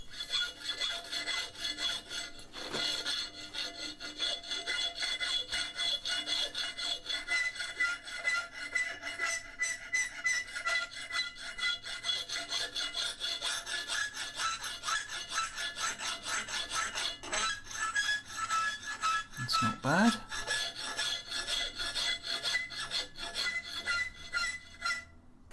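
A cleaver made from two farrier's rasps is worked with a hand file, giving continuous rhythmic rasping strokes that scrape back and forth at close range for the whole stretch, with no voices.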